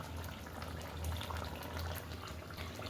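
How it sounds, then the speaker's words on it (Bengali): Poppy seed curry (posto) simmers in a pot, making a soft, continuous bubbling and seething at low volume with no voices. "কয়েক মিনিট ফুটে গেলে রেডি আমাদের পোস্ত।"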